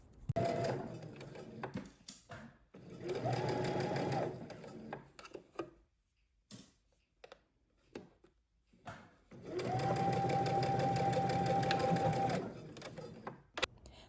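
Sewing machine stitching a seam on a summer top with a 5/8 inch allowance, three bursts of close, steady whirring separated by pauses filled with light clicks and handling.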